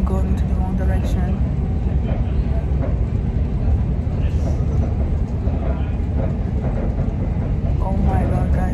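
Steady rumbling interior noise of a moving train, a constant low roar and rattle throughout, with a person talking over it.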